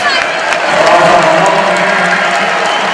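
A basketball crowd at Carver Arena cheers and applauds with a loud, sustained roar, with a commentator talking over it.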